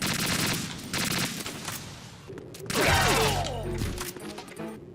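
AK rifle fire in Metal Gear Solid 2 rattles in loud sustained automatic bursts, a dense chatter of rapid shots with a crashing impact partway through, heard close and dominating the mix.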